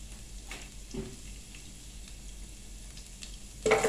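Finely chopped garlic sizzles quietly in a few spoonfuls of oil in a pan on lowered heat, a steady soft frying hiss with a brief louder clatter near the end and no voices.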